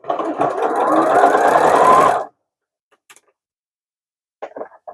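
Sewing machine stitching book and Kindle sleeves in a batch, a loud fast run of stitching for about two seconds that then stops, followed by silence and a few small clicks and taps.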